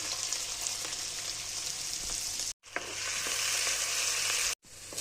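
Onions frying in hot oil for chow mein, a loud continuous hissing sizzle close by, broken twice by sudden brief silences before the sizzle resumes at full strength.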